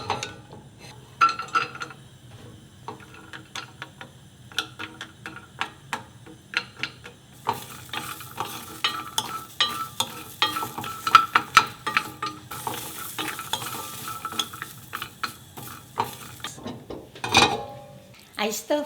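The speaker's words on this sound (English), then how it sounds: "I stir fried 3 minutes and now just light brown" Something stir-fries in a pan over medium heat with a soft sizzle, punctuated by many irregular clicks, scrapes and knocks of utensil against pan, growing busier midway, with a sharp clatter near the end.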